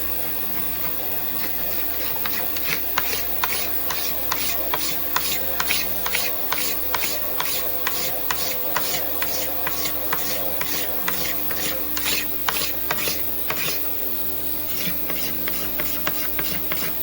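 A Kawasaki KX60 dirt bike part is sanded by hand in quick, steady back-and-forth rasping strokes that keep an even rhythm over a low background hum. The sound is close and continuous, with no voices.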